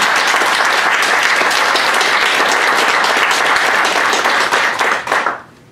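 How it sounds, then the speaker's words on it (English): Loud, dense round of applause from an audience at a rural health forum, steady and close for about five seconds before tapering off abruptly. "I think we just need to give you a round of applause"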